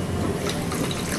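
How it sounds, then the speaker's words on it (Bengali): Water pours steadily and close into a frying pan holding sugar for a sugar syrup, a continuous splashing rush throughout the short moment. "যতটা আমি এখানে চিনি নিয়েছি তার হাফ আমি জল দিচ্ছি।"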